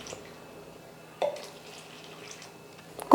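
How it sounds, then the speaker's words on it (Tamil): Water is poured into flour batter for boondi laddu, making two brief, close splashes separated by quiet. "தண்ணி சேர்த்து மாவு வந்து இப்போ கரைச்சிக்கலாம்."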